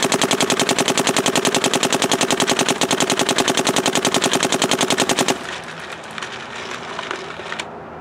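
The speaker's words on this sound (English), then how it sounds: "Shooting it just into the trees so you can hear the gun shoot." A Dye M3+ paintball marker fired into trees in a rapid, very regular stream of loud sharp pops for about five seconds, then a few scattered clicks and handling noises before it stops.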